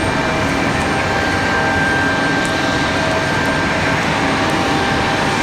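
Southwest Airlines jet in from Phoenix at Raleigh-Durham airport, a steady broadband engine roar with a faint high whine, continuous and fairly loud through the whole stretch amid windy outdoor noise.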